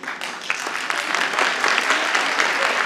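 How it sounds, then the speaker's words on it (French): A live comedy-show audience breaks into dense, sustained applause, loud and continuous for the whole stretch with no voices rising above it. "Par applaudissement, combien parmi vous aimeraient devenir prêtre?"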